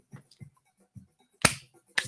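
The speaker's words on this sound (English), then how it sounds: "so just had to kill a little spider there. Didn't kill it, just clapped it." Sharp hand claps swatting at a small spider indoors, two loud close smacks near the end, preceded by a few softer taps, with no talking.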